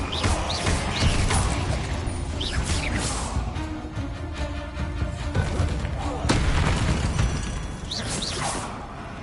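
Explosive spell blasts such as Bombarda, Confringo and Incendio, cast during a PS5 video game fight against spiders: repeated loud booms and crackling bursts in quick succession over a dense, continuous bed of battle effects, with a voice faintly mixed in.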